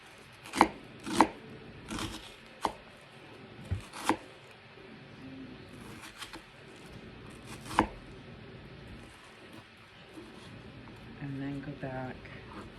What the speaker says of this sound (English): I'm going to chop these really fine